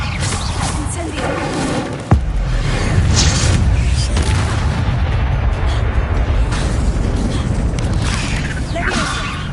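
An Incendio fire spell is cast in Hogwarts Legacy: a sudden burst about two seconds in becomes a loud roaring, whooshing blaze that holds steady, with softer game effects and faint voice activity around it.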